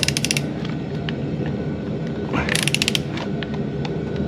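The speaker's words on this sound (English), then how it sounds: "now it's safe to go ahead and remove the spark plugs." A ratchet clicks in quick bursts while loosening spark plugs on a 2010–2014 Ford Fusion engine, with brief metallic rattles in between against a steady low background.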